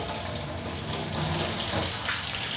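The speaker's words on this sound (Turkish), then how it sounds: "Musluğu yıkarken de mutlaka bir açma kapatma hareketi yapın ki içerisinde kaldıysa bir miktar daha malzemeler sürtünmeyle akacaktır" Water runs steadily from a tap while the tap of a plastic fermentation bucket is washed, a close, even splashing hiss that carries on without a break and without voices.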